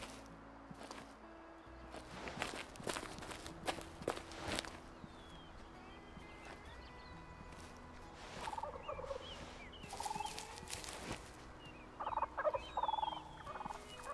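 An eastern wild turkey in the game Way of the Hunter gobbles in a few bursts amid rustling footsteps and outdoor ambience, fairly faint and with no talk.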